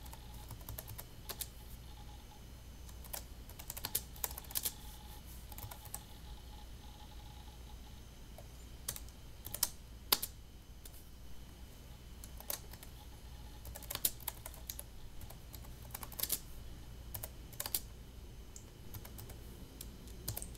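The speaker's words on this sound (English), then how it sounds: "Let's go ahead and try typing something." Typing on the keyboard of a 1997 IBM ThinkPad 380ED laptop: soft, irregular key clicks in quick bursts and pauses, quiet and close, with no speech.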